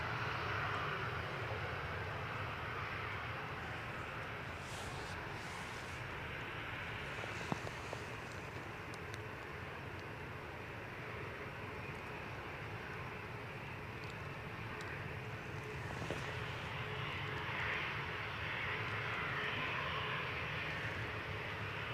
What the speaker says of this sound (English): See the Turkish A321neo pushing back.